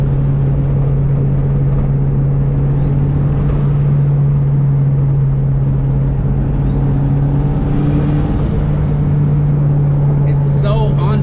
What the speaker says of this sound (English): For some reason in the wagon it's not spooling while I'm driving, but it is on demand.